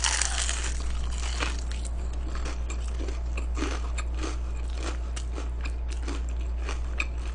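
Crispy hot fried chicken from a Korean eating broadcast is bitten and chewed close to the mic, with repeated crunchy bites and chewing over a steady low hum and no talk.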